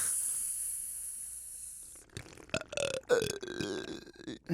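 A single burp arrives after a stretch of faint hiss, quiet and close-miked, with a few soft clicks and noises around it.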